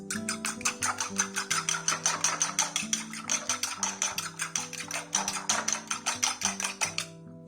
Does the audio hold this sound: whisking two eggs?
yes